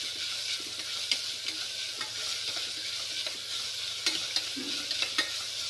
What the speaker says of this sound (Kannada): ಈಗ ಸ್ವಲ್ಪ ಫ್ರೈ ಆದಮೇಲೆ ಅದಕ್ಕೆ ಕಟ್ ಮಾಡ್ಕೊಂಡಿರೋ ಉಳ್ಳಿಗಡ್ಡಿ ಹಾಕೊಳತ್ತೀನಿ.